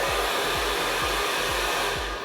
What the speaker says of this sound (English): you switch the dryer on, switch it off, switch it on, turn up the power